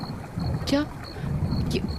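A boat crosses the Kishnoi river in a dramatized story scene, with steady low water and hull rumble, a faint airy wash, and a brief chirping tone partway through.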